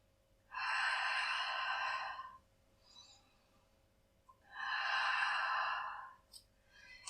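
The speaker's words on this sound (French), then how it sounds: "Soufflez bien." Long, forceful exhalations during a Pilates session: two drawn-out breathy blows, each about two seconds, close to the microphone with a soft puff between them in an otherwise quiet room.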